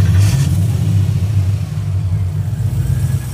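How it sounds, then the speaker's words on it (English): A 707-horsepower Hellcat supercharged HEMI V8 swapped into a Nissan 350Z rumbles deep and loud close by, its heavy low idle swelling slightly as it is revved, with no talking. "that's a 707 horsepower supercharged V8 in a Nissan 350Z"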